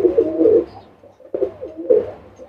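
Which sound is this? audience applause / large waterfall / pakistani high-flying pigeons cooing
pakistani high-flying pigeons cooing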